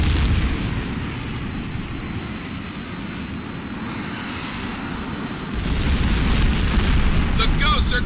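Explosions hit ground targets in the H.A.W.X. combat flight video game as a dense rumbling roar under jet engine noise, swelling louder near the end.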